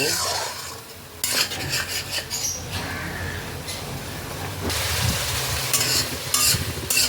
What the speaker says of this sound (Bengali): সব কিছুকে একসাথে ভালো করে মিশিয়ে এখন এটাকে কষিয়ে নেব